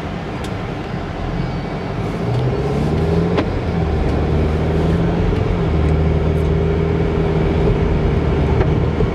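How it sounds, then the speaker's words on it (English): A 2007 Audi A4 Quattro with 97,000 miles on a test drive, giving a steady, continuous road and engine rumble from inside the car with a low drone throughout and no talk. "let's take it for a test drive."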